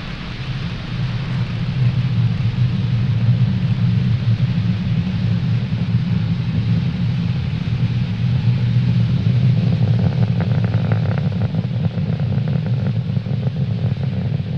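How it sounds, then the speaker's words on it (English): A SpaceX Falcon 9 rocket lifts off from Pad 40 at Cape Canaveral, a loud, steady, deep rumbling roar that holds for the whole stretch with faint crackle near the end, heard from a distance. "Falcon 9 has successfully lifted off from Pad 40 at Cape Canaveral Space Power Force Station"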